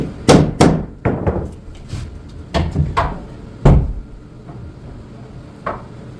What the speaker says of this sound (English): Had to go find an actual adult size hammer.